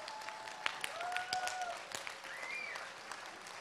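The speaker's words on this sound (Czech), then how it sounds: "Já bych Praze zatleskal" A crowd at a political campaign event applauds, a dense patter of many hands clapping at a distance, steady for a few seconds with a few whistles.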